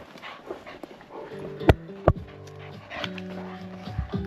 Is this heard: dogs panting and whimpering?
yes